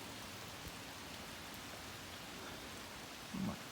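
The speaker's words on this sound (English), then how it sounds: "it's raining outside right now" Steady, soft rain falling outside, a constant hiss of drops with no voices, a brief low thump near the end.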